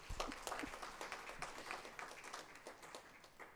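Applause from an audience at a book launch ceremony, many hands clapping in a dense, steady patter of moderate loudness that keeps going throughout.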